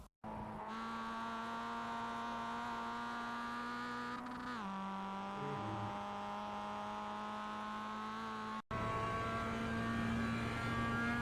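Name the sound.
Mazda MX-5 race car engine in iRacing video game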